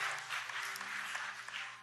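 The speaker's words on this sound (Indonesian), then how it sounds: "Yang percaya kasih tepuk tangan yang paling meriah, tepuk tangan yang paling dahsyat." A church congregation at an Ascension Day evening service applauds. The clapping is sustained, diffuse and fairly faint, heard from a distance over a low steady hum.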